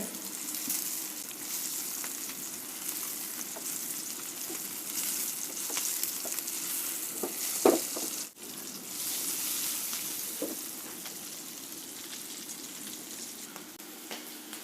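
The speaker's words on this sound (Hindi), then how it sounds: "और इनको धीरे धीरे इनको पलटते हुए जाएंगे। जिससे कि जो आलू है अच्छे से फ्राई हो सके।" Potatoes for dum aloo fry in oil with a steady, moderate sizzle, broken by a single clear utensil knock partway through as they are slowly turned.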